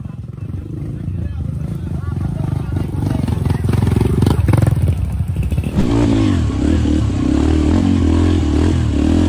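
Motorcycle climbing straight from a descent onto an uphill stretch of slippery road: the engine revs and rumbles loudly up close, rising in a strong throttle burst, with someone talking over it.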